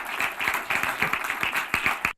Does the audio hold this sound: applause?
yes